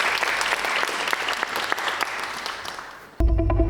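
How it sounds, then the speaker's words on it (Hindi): A studio audience at a talk show claps in sustained applause, with crisp dense hand claps fading slightly before cutting abruptly into a different sound near the end. "ट्रेलर चलाने से पहले तालियां"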